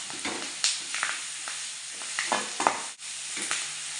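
Onions sautéing lightly in a pan for white kurma, a steady sizzle broken by repeated spatula stirs and scrapes, fairly close and with no talk.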